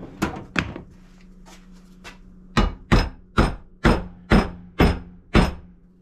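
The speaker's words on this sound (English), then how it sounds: "I can probably just hit that on there with a hammer." Sharp metallic hammer strikes, a few scattered blows followed by a steady run of six evenly spaced, loud hits close by.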